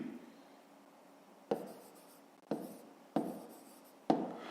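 Writing on paper while working a fifth-grade math problem about a triangle's dimensions: four distinct scratchy strokes, each starting sharply and trailing off, spaced about a second apart, close and quiet with no talking.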